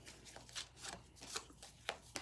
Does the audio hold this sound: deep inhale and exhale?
no